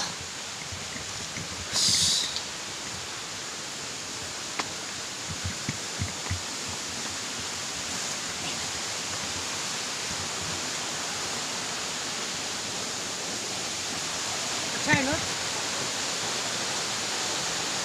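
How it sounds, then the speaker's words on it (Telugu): Panasa waterfall near Madanapalle, India, gives a steady broadband rushing roar throughout, broken only by a few brief knocks and a short bump, with no voices. "ఇదే ఫ్రెండ్స్ పనాసా వాటర్ ఫాల్స్."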